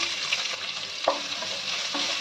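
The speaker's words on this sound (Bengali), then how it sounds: "পেঁয়াজটা ভেজে নেব।" Sliced onion fries in hot oil with curry leaves and a pinch of asafoetida, making a steady, close sizzle with a few soft knocks as it is stirred.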